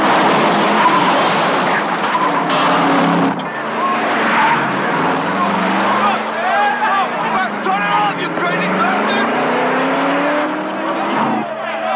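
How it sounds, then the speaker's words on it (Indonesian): A film car's engine roars and revs continuously as it pulls away and drives out, loud and close, with pitch rising and falling through gear changes and tire noise. "Suara merdu mesin itu membuat Eclipse dan Dallas sampai terbangun."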